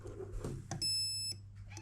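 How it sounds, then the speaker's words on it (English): A Perun M14 airsoft mosfet, fitted to a Cyma M14 and connected to a 7.4 volt battery, gives one short, clear high-pitched electronic beep that lasts about half a second against quiet handling noise. "it beeped and we had a green light"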